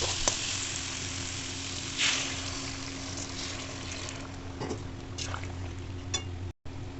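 Hot boiled water poured into a pan of prawn and potato curry after frying with oil, giving a steady hissing, bubbling wash with a brief louder burst near the start and faint clinks.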